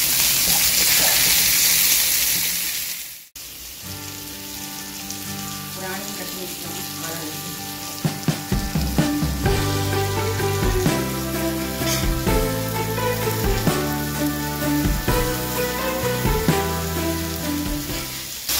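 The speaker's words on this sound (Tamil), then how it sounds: "ஃபஸ்ட்டு கல்லில் இருக்கிற மீன் இப்போ ஆல்மோஸ்ட் சாப்பிட்றதுக்கு ரெடி ஆயிடுச்சு" Fish fries on a hot griddle stone with little oil, giving a loud, steady sizzle for about three seconds before music takes over for the rest.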